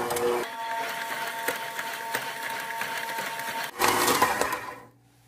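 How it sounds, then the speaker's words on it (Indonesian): An electric stand mixer kneading milk bun dough, a steady close motor whir with a rhythmic thumping churn that surges louder near the end, then cuts off. "Lalu kita mixer lagi, adon lagi sampai benar-benar kalis."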